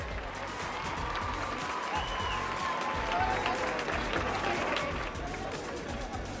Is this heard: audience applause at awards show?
yes